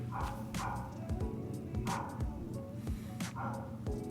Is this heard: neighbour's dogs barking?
yes